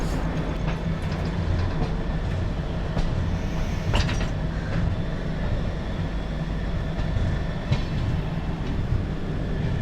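Vasco Jasidih Express hauled by a WAG9HC locomotive runs steadily on approach to Hubballi, with a continuous loud rumble and faint clickety-clack of wheels throughout, heard from inside the coach.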